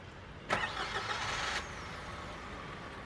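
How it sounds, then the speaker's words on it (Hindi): Maruti Swift car engines, a 3-cylinder and a 4-cylinder, idle together with a low steady hum. A brief start-up surge is heard early on, then a softer even idle. "दोनों कार जो है वो एक बार स्टार्ट कर दी हैं, 4 सिलेंडर 3 सिलेंडर"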